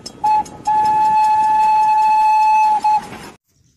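A Thomas the Tank Engine toy train horn toots a steady electronic tone, one short blast, then a long sustained one and a brief final toot, close and loud.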